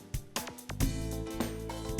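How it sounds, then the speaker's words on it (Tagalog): An Alesis Nitro Mesh electronic drum kit plays a steady preset beat, with punchy kick and snare hits over a sustained tonal backing. "Nag-iba yung tunog ng drum kit."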